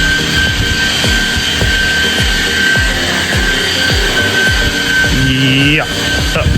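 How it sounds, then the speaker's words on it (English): A car buffer whirs continuously while polishing a Jeep during a full detail, a loud rough motor drone with rhythmic pulses and a pitch sweep near the end. "Got Bad in here buffing, doing his thing"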